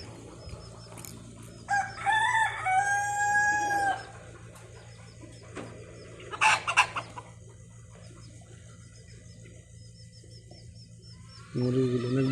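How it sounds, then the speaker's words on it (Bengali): Chickens clucking and a rooster crowing inside a workshop where many birds are kept, with bursts of crowing and squawks separated by quieter stretches over a constant low hum. "মামায় ওয়ার্কশপের ভিতরে অনেক মুরগি পালে।"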